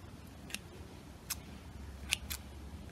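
Scissors snip lightly over the felting yarn of a needle-felted highland cow: four quiet, crisp cuts spaced irregularly across a hushed room, with no talking.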